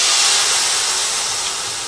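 Orange juice poured onto a hot skillet while making vaca frita bursts into a loud, bright, steam-heavy hiss that holds steady and slowly eases off, with no talking.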